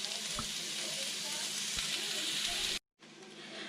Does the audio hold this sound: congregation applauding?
no